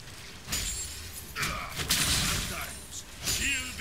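A shield shatters in League of Legends with bright crashing bursts and whooshing effects, several impacts over a few seconds amid game noise, with a voice talking in places.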